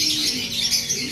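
Pigeons kept by a hobbyist fancier send out a steady stream of bright, overlapping chirps and calls, fairly close and continuous, with no talking.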